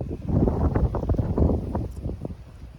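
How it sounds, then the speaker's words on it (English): Strong wind blowing outdoors by an old fortress on the island of Kos, a steady low rumbling buffet across the microphone, loud and continuous with gusty surges and no speech. "I'm sheltered from the strong winds which are blowing today"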